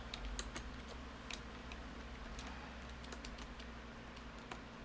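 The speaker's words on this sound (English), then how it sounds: "I typed the word length out unnecessarily." Quiet, rapid typing on a computer keyboard while writing code, a dense irregular stream of soft key clicks with a few sharper taps, heard close and alone.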